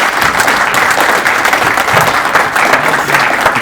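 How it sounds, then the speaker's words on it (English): Loud, sustained applause from the audience at the Edina Chamber of Commerce "Shark Tank" event greets runner-up Robbie Smith, a thick, continuous patter of many hands clapping close by, with no one speaking over it. "Robbie, give him a round of applause."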